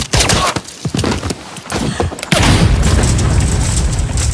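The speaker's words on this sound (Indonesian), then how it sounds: "Utsubo pun melemparkan sebuah bom dan" A bomb explodes in a Japanese action film, a sudden loud blast that opens into a sustained roaring wash of noise after a busy stretch of thuds and scuffles.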